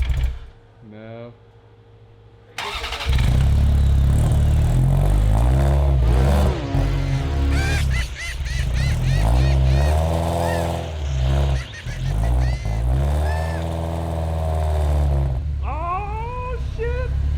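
A supercar engine runs loud and close, its low rumble shifting in pitch as it settles toward idle, with people talking over it throughout.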